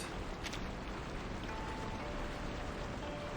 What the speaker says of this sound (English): The Palan River running high today. Can hear nothing but the water itself.